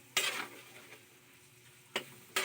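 Quiet frying of chicken franks in a pan with a faint sizzle, broken by a few sharp scraping stirs of a utensil against the pan.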